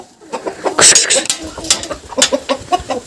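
Cochin chickens cluck and squawk nearby in short irregular bursts, with some voices mixed in among the calls.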